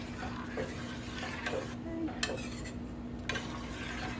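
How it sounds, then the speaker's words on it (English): A spoon stirs canned creamy Mexican soup in a pot on the stove, with a few light scrapes and clinks against the metal over a steady low hum, close and fairly quiet. "We're going to give it a stir. Get those bits out."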